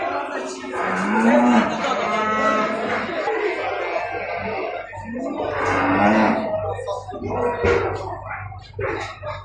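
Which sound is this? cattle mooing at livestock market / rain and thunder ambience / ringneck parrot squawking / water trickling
cattle mooing at livestock market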